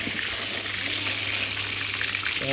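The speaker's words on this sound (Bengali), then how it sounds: "ডিম ভাজি করা হচ্ছে প্রথমে" Eggs frying in a pan at an old hotel kitchen, a steady, close hiss of sizzling oil that runs without pause.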